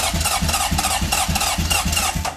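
A single-cylinder Honda CB750 motorcycle engine fires and runs with a loud, rough, chugging rhythm of evenly spaced pulses throughout, unaccompanied by voices.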